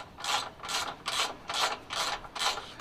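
A hand ratchet loosens small bolts on a pressure washer during servicing, six even rasping clicks-and-swings in a steady rhythm, close and fairly quiet.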